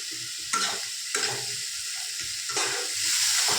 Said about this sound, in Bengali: পেঁয়াজ রসুন আর টমেটো বাটাটা দিয়ে এটা ভালো করে লাল লাল করে ভেজে নেবো